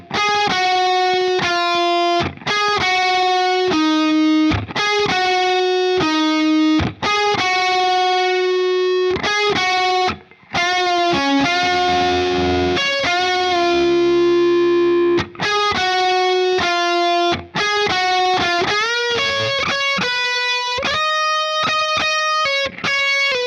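Distorted electric guitar plays the second solo, with bright, sustained lead notes and bends phrased in quick runs, loud and close with no talking over it.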